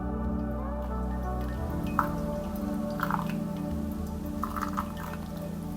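Water poured from a kettle over pour-over coffee grounds, a steady close trickle with soft drips and splashes running throughout, over a low background hum.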